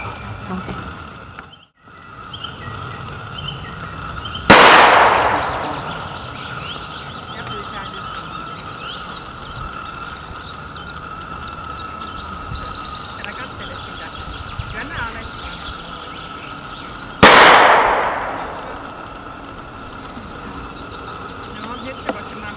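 Two loud, sharp gunshots ring out well apart outdoors during a dog temperament test in Karkkila, each fading in a short echo, with people talking in the background.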